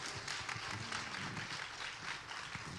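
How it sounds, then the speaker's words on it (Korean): Church congregation clapping together in a steady, sustained round of applause, dense and even for a few seconds, heard from within the room at moderate volume. "하나님께 영광의 박수"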